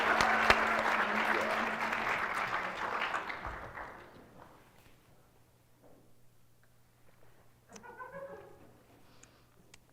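Studio audience applause at a talk show fills the opening seconds loudly, then fades into a quiet room where a few voices start to speak.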